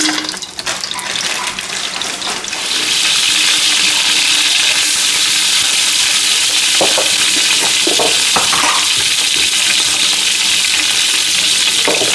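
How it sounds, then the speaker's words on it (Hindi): Chicken pieces fry in hot oil during Eid cooking. The sizzle is loud and steady and swells after a few seconds into a dense, continuous hiss, with occasional stirring knocks and no voices. "तो अब हम ये चिकन तलेंगे जो हमने निकाल दी है।"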